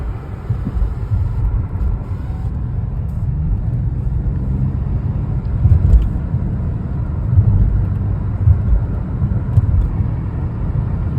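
A Dodge Charger GT cruising on a morning commute, its engine and road noise forming a steady, loud low rumble from inside the cabin, with slight swells as it accelerates and no talking.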